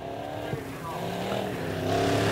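Midwest modified race cars circle the track at Lebanon Midway Speedway under a restart, with a steady engine roar that builds slightly toward the end and carries a faint commentator's voice over it.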